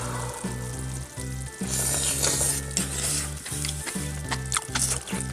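Enoki mushrooms braising in a pan, a soft bubbling sizzle overlaid by a rhythmic mechanical hum with occasional clicks.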